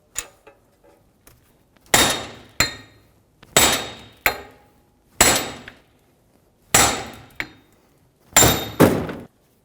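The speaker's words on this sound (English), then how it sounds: "we're going to use a second hammer to hit it" A hammer striking a second hammer to knock a wheel hub out of a steering knuckle held in a vise on a 2003-2008 Honda Pilot, six or seven sharp metallic blows in irregular pairs, loud and close.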